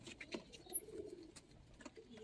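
Old-breed Giribaz pigeons in a loft coo softly in low, murmuring bursts, with faint flutters and a few sharp high chirps mixed through the steady background.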